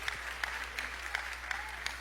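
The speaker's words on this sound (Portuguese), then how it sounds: "você pode dar um aplauso a Jesus pela leitura de sua palavra?" A church congregation applauds steadily, a dense wash of clapping from many hands with a few louder claps standing out, continuous and moderately distant inside the hall.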